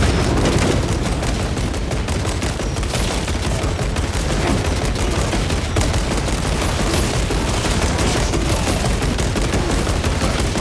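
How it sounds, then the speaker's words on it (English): In the video game Warhammer 40,000: Space Marine 2, a frag grenade blast goes off amid continuous heavy gunfire, forming a dense, loud, unbroken wall of rapid shots and booms. "Frag grenade out!"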